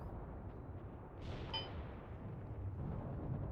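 Distant artillery rumble in a video game battle as a massive smoke barrage is laid down, a low continuous roar with one sharper muffled report partway through, no talking.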